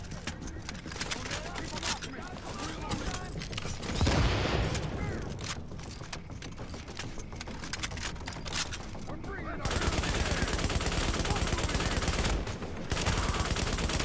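Sustained automatic gunfire laying down suppressing fire on infantry in The Division, Times Square power relay mission, dense rapid bursts nearly nonstop and loud, with a brief pause and heavier booms partway, someone talking over it.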